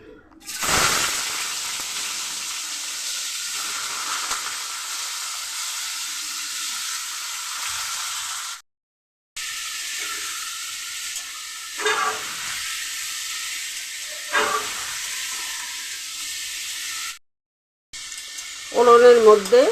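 Spices and vegetables fry in hot oil with a steady bright sizzle, briefly cut off twice, with occasional stirring scrapes and a voice speaking near the end.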